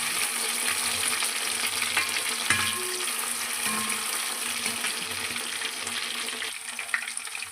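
Chicken 65 pieces fry in hot oil with a loud, continuous crackling sizzle and a few brief clatters as they are turned, close up with no talking.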